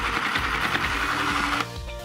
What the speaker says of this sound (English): Take your strap, make sure it's not twisted, and put it into the sewing machine.